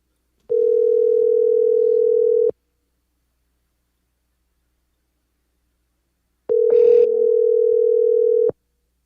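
A phone line gives two long, steady outgoing ring tones, each about two seconds, separated by silence, with a brief burst of other noise over the second tone.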